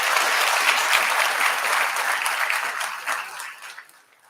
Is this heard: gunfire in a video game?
no